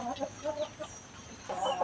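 Chicks give soft, quick clucking peeps in short bursts at close range, quiet but clear against a faint background.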